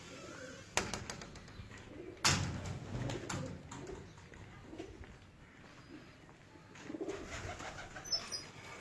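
Pigeons coo softly and intermittently nearby, with a few faint thumps and rustles in a quiet setting, low in level.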